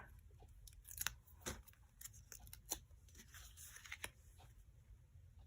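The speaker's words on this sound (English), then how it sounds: "And then I get the release paper off of here." Release paper peels and crinkles off a craft stamp piece at a quiet tabletop, with faint crackles and soft scratchy snaps in short bursts.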